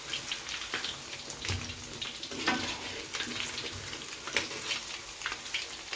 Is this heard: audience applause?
no